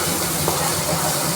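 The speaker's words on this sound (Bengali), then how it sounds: "আদা রসুন পেঁয়াজ বাটা সবই দিয়ে দিয়েছি। দিয়ে ভালো করে এটাকে কষিয়ে নেব।" Ginger, garlic and onion paste frying in a pan, a steady loud continuous sizzle with faint bubbling crackles, heard up close.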